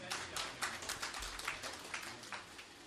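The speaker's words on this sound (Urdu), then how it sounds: "بھرپور تالیوں میں" Audience applause at a poetry recital, a quick burst of scattered hand claps from a smallish crowd, fairly faint and distant, continuing evenly for a few seconds.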